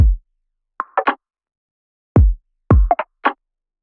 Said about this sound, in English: Here with the drums, I have a really garage approach to it with the groove.